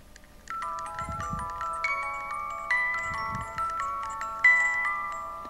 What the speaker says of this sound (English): This is a modern toy music box.